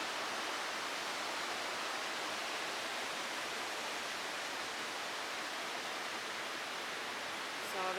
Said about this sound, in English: So that's the noise of the water flowing under the bridge.